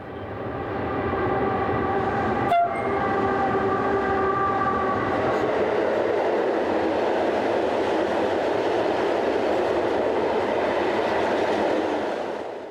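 Two SNCB electric locomotives, numbers 1337 and 1303, pass by with a loud, continuous rumble and wheel noise on the rails, preceded by a sustained horn and a sharp click near the start.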